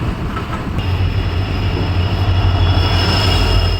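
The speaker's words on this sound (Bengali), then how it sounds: "মানুষ চলে এসেছি স্টেশনে আর ট্রেনও এখন ঢুকছে" A passenger train rolls into a station platform, its steady loud rumble and rail noise filling the whole stretch, with a high metallic wheel squeal rising partway through and no voices.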